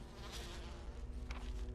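Giant bees in the Resident Evil video game give off a soft, continuous insect drone that stays faint and steady throughout.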